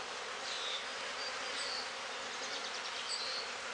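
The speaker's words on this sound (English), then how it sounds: "See, most of the bees are over here." Honey bees on a hive frame buzz in a dense, continuous hum, fairly faint and steady throughout, with no voices.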